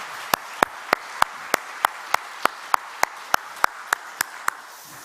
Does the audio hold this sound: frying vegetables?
no